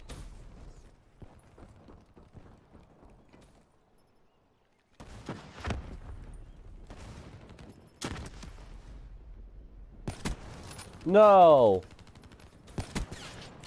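Sniper rifle gunfire in the Call of Duty Black Ops 3 video game, with several sharp, separated shots and bursts of gameplay effects between quiet stretches, while a person briefly speaks.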